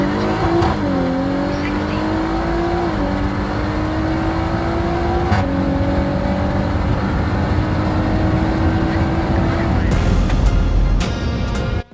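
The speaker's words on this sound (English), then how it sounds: "And this turbo is like nothing else in the world. It really spools up like a jet engine." A 750hp turbocharged Audi SUV accelerates hard, engine note climbing in repeated upshifting pulls with a rising turbo whine, loud and close throughout, ending in a brief cut.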